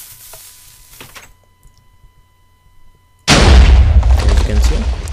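A Minecraft cannon fires its cannonballs in a single sudden loud blast that rolls on as a crackling rumble after a near-silent buildup.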